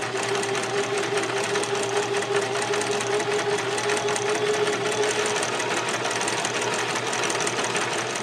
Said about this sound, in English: What I'm going to do first is test it on an overlock stitch.